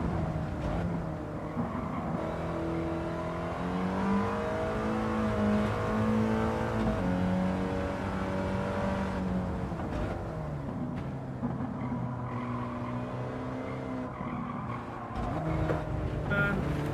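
A race car in Gran Turismo 7 accelerates out of a corner during a National B race, its engine climbing through the revs in a rising whine, dipping and climbing again on each gear change, steady and up close.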